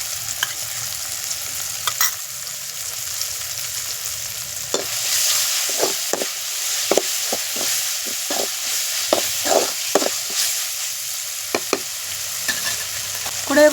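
Ginger garlic paste frying with softened tomatoes in a pan, with steady sizzling broken by repeated scraping and stirring strokes in a quick, uneven rhythm, close and moderately loud, with no talking.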